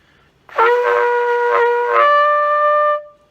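A single sustained brass note swells in, holds steady for a couple of seconds, then stops cleanly in an otherwise quiet space.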